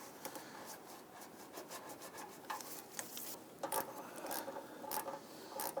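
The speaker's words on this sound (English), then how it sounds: "I'm going to install a hose clamp. And slide this on." A hose clamp is slid onto a power steering return hose on a 2000-2006 Toyota Tundra, giving faint close rubbing and scraping with small clicks of metal on rubber, no voices.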